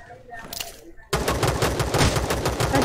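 Loud, rapid automatic gunfire from the Rules of Survival battle royale game bursts in suddenly after a quieter stretch of scattered shots, then continues as dense, continuous firing.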